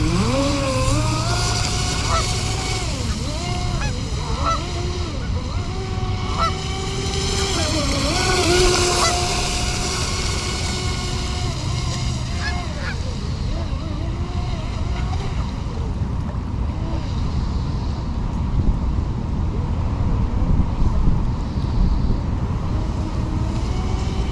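A ProBoat Recoil 2 RC boat running at full throttle on a 5200 mAh battery gives off a continuous, fairly loud, high-pitched electric motor whine. The pitch wavers and bends as the boat turns and surges, with water noise underneath.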